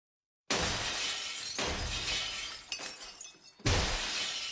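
Glass shatters loudly in a repair advertisement, a sharp crash followed by tinkling, scattering shards, then a second smash near the end.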